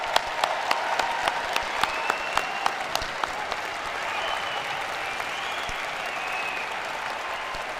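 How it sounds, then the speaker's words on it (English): Sustained audience applause fills a graduation convocation hall for the engineering and technology class of 2025, dense and steady, with a few sharper individual claps standing out early before settling into an even wash. "Let's give them a round of applause."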